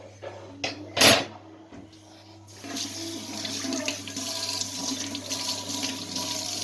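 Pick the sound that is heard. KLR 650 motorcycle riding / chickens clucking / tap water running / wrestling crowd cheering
tap water running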